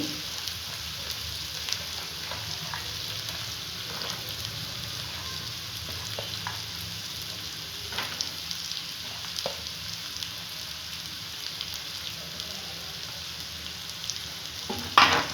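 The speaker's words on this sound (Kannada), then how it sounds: "ಇದು ಎಣ್ಣೆ ಒಳಗಡೆ ಚೆನ್ನಾಗಿ ಬೇಯಬೇಕು." Field beans sizzle and crackle in hot oil for aloo bonda filling, a steady moderate frying hiss with scattered pops and a few stirring knocks, no voices.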